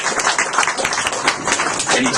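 An audience breaks into a short, dense round of applause, many hands clapping at once in a continuous patter, with a voice partly heard over it.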